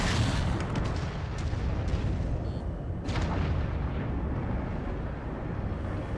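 Heavy, rumbling blast of a mech being destroyed in MechWarrior 5: Mercenaries, a loud low-end roar sustained across the whole stretch with no pauses, blending into dense battle noise.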